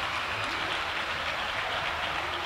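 Faint, steady clapping from a crowd applauding a band at a festival coronation ceremony, a dense distant patter lasting the whole moment.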